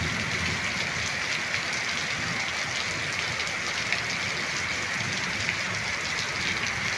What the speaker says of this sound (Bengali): চারিদিকে বৃষ্টি মানে একেবারে নিস্তব্ধ চারিদিক শুধু বৃষ্টির শব্দ